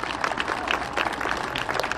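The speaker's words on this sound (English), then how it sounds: "Can we give all of our semifinalists a big round of applause?" An audience at a school district Teacher of the Year event claps for the semifinalists: dense, steady applause with a crackling texture, moderately loud and continuous throughout.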